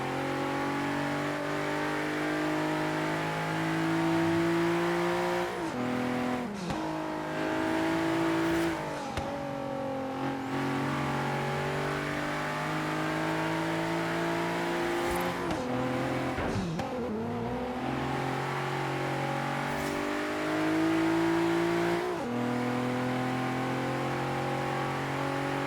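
An Infiniti Q50 accelerates hard through its gears, the engine note climbing in pitch and dropping sharply at each shift, with several shifts in steady, loud succession.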